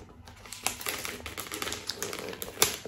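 Gift wrapping paper around a Christmas book is torn and peeled open up close, producing a series of crisp rustles, crinkles and rips in irregular bursts with no talking.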